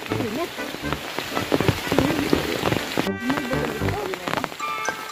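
Rain pours steadily onto surfaces at a hillside home in Masbate, a dense patter of drops that continues throughout, with people talking faintly beneath it.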